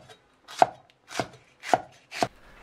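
Knife chopping green and red chili peppers on a board, four distinct crisp chops spaced about half a second apart, close and clear with quiet gaps between.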